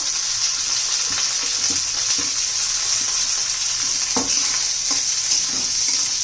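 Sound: onion frying in pan with white sesame seeds

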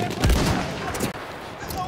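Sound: enemy machine gun firing in the video game Battlefield 1

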